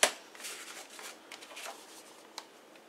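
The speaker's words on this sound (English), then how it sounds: "I'm just going to cut this apart." Paper being cut apart by hand while making a holiday card, with a crisp snip at the start followed by soft rustling and scraping of sheets, plus a brief sharp tick near the end, close and quiet.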